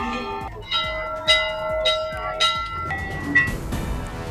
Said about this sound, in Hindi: घंटी और जयकारों से गूंजा मंदिर का परिसर